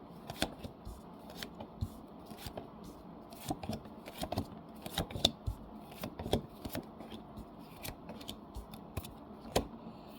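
Tarot cards being shuffled by hand at close range, with quiet, irregular riffling and sharp snapping taps repeating throughout, no voice over it.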